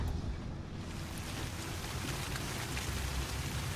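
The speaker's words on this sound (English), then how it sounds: "You can hear the rain outside on the windshield" Steady rain patters on a spaceship windshield on an acidic alien planet in No Man's Sky, a dense continuous hiss of drops with a low rumbling bed, close and even throughout with no talk.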